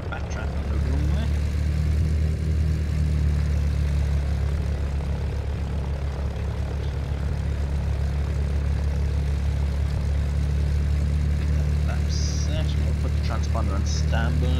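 An Ikarus C42 light aircraft in the FSX flight simulator taxis quickly along a runway, its propeller engine giving a steady loud drone throughout with no talk.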